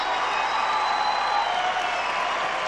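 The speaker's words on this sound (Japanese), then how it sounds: "場内大歓声になりました。" Dense, steady roar of a large arena crowd cheering and applauding at the 1998 Nagano Olympics figure skating, a continuous wash of noise with no breaks, loud and filling the space.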